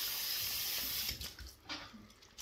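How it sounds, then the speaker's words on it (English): Cool water runs from a tap in a steady splashing stream during a shave rinse, then breaks up into uneven splashes and trickles as hands cup and move through it. "what I'm going to do is rinse off with cool water"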